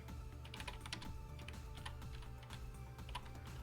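Python code being typed on a computer keyboard, a quick irregular run of soft key clicks, close and quiet with no talk.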